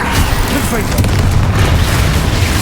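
Confringo fire spell blasts in the video game Hogwarts Legacy: loud, dense booming explosions with crackling bursts filling the whole moment, heavy and close, with a voice talking over them.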